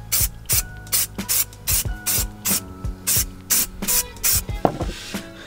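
Aerosol spray paint hissing onto stock Subaru STI wheels in a series of short, even bursts, roughly a dozen quick passes with brief pauses between, close and fairly loud with no talking.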